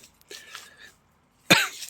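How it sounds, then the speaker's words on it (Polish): Two short coughs from one person indoors, a soft one early on and then a sharp, loud cough near the end, separated by a moment of quiet. "Przepraszam bardzo za to kaszlenie"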